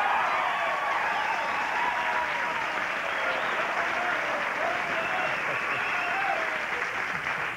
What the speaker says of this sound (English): The crowd goes crazy whenever there's a new heavyweight champion.